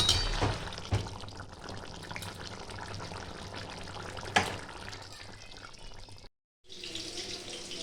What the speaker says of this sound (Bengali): এটা এবার আমি ঢেলে নেব।